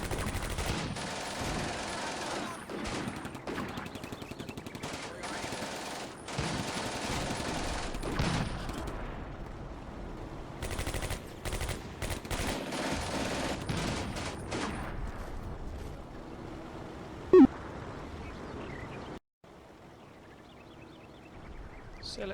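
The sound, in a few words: machine gun and anti-tank gun fire in video game Combat Mission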